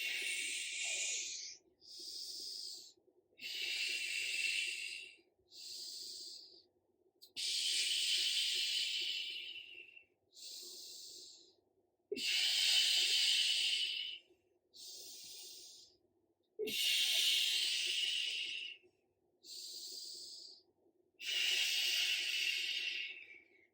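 Heavy breathing during a core workout comes as about a dozen strong, airy in-and-out breaths, each lasting a second or two and separated by short pauses, loud and close with no speech.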